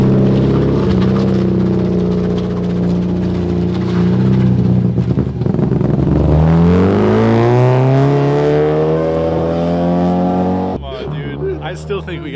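The untuned engine of a Honda Civic converted to rear-wheel drive revs loudly up close, its droning note climbing steadily in pitch before dropping off suddenly near the end.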